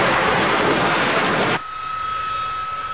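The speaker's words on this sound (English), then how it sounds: "The reason that the Harrier can perform these incredible maneuvers is its extraordinary engine system." Harrier jump jet engine roars loud and broadband, then cuts abruptly to a thinner whine with a steady high tone for the last second and a half.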